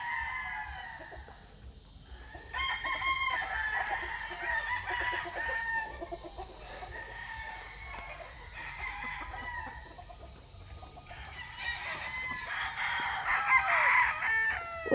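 Several farmyard chickens cluck and a rooster crows repeatedly, fairly close, over a steady low outdoor background with no talk.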